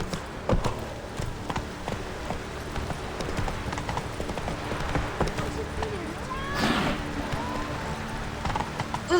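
Horse hooves in The Witcher 3 galloping on a PC playthrough, a busy rhythmic clip-clop running throughout at moderate loudness, with a brief whinny-like call near the middle.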